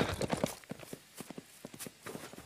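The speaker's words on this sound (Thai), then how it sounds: "ธอขึ้นรถม้าคันเดียวกับเอเรนซะ" Horse hooves pulling a carriage in an anime scene clop in an irregular run of soft, close beats, with faint voices in the background.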